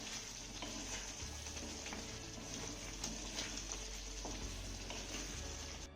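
Bitter gourd (karela) fries in a pan while being stirred, a quiet steady sizzle with faint scraping of the spatula and a low hum underneath, close but soft throughout.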